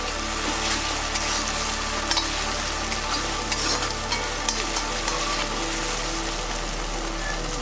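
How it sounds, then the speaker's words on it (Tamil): Ginger garlic paste fries in a pan with a dense, continuous crackling sizzle, scattered with sharper pops and occasional stirring scrapes, loud and close with no talking. "இது இந்த பச்சை வாசம் போகிற அளவுக்கு நம்ம வறுத்துடுவோம்."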